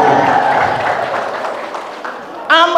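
An audience at an Islamic religious lecture claps in a thick, even burst of applause that slowly fades, before a voice cuts in at the end.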